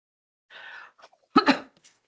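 A single short sneeze, preceded by a quick sharp intake of breath, close by in an otherwise quiet committee meeting room.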